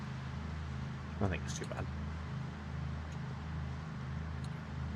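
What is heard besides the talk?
player's truck engine driving, from a video game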